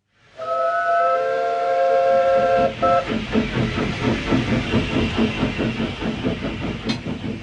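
A loud, shrill steam whistle blows for a few seconds. Then a steam locomotive chugs rhythmically with hissing steam, close and powerful.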